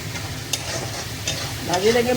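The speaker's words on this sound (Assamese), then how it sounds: "এইখিনি এতিয়া ভাজি থাকিম।" Cumin, coriander and a little garam masala fry in hot oil in a pan for a jackfruit curry, with a steady close sizzle and scraping stirs throughout.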